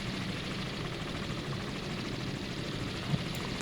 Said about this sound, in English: We can get this helicopter to land.